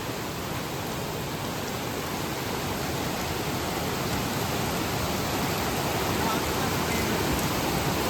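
Fresh water pours down inside a limestone cave at Siju in Meghalaya, making a dense, steady rushing roar that fills the whole span without a break.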